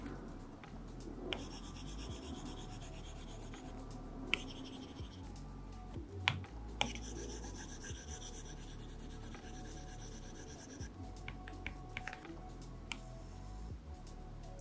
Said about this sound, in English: it honestly sounds like I'm writing on paper